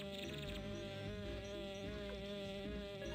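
Persistent insect buzzing from mosquito enemies in the Sega Saturn game Gensosuikoden, a whining drone layered over steady tonal game music throughout.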